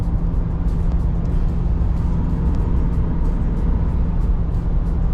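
A vehicle towing an RV rig cruises along a highway, with a steady low road and engine rumble and tire noise that holds constant throughout and has no talk over it.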